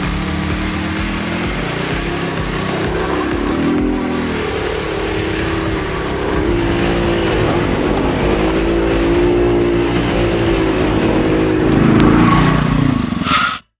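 A Spy Racing 350cc F1 road-legal quad bike engine revving hard, a loud, close, sustained buzzing drone with rising and falling pitch as the throttle is worked, cutting off abruptly at the end.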